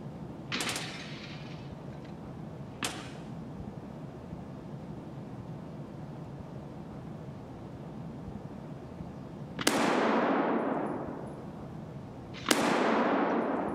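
Several sharp gunshots in the video game Escape From Tarkov ring out at irregular intervals, two faint and two louder with lingering echoes, over a low background hum.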